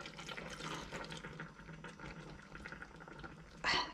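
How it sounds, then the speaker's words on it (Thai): Water is poured into pounded rice paste for a bamboo shoot curry, a faint, steady watery splashing that ends in a short, louder gush. "ตัวนี้เป็นข้าวเบือข้าวเบื่อเราใส่น้ำนะคะทุกคน"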